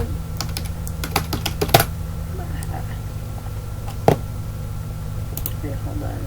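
Someone enters a password on a computer keyboard: a quick cluster of crisp, close key clicks, then a pause before a single sharper tap and one last faint keystroke over a low background hum.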